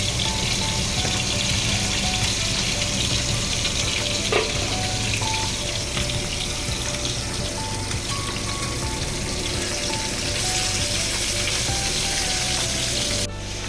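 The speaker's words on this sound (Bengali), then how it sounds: "মাছগুলো ভাজা হচ্ছে" Steady, crackling sizzle of fish frying in a pan, continuous and close throughout with no talking, a few faint clinks near the end.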